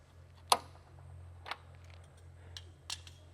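Hose being cut with a sharp snip during a Z1 supercharger install on a Nissan 350Z / Infiniti G35, one loud crisp cut followed by a few softer clicks over a low steady hum.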